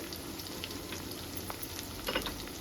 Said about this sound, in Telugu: ఇవన్నీ వేసుకొని బాగా ఫ్రై చేసుకోవాలి